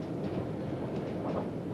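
An XPT passenger train runs along the rails in Australia, giving a steady, full rumble of wheels and carriage noise with faint rhythmic clatter, continuous and close throughout.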